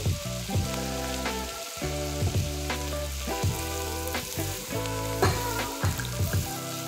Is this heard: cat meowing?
no